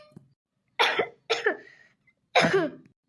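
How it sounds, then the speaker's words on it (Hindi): Three separate coughs, loud and close, spaced about a second apart, with a faint thump just before the first. "ये खांसने की आवाज किसकी है?"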